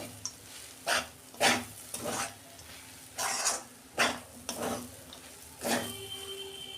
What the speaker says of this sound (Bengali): এবার ভালো করে মিশিয়ে নেড়ে চেড়ে ঢেলে ফেলবো।